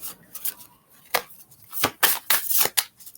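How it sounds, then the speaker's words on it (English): A handful of quick, crisp papery riffles and snaps of tarot cards being shuffled, irregular bursts close by with quiet gaps between. "And we're going to shuffle again."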